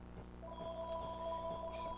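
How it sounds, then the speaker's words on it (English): A telephone rings inside a bike shop, an electronic ring in a steady repeating pattern, fairly faint, with no talk over it. "Oh, there's the phone."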